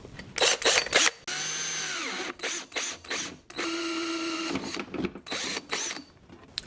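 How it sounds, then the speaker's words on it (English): A cordless drill fitted with a hole saw cuts an opening while building a DIY lithium battery box for a trolling motor. It gives repeated short bursts of whining motor and grinding bite that start, pitch down and stop, fairly close and alone. "And I need a drill"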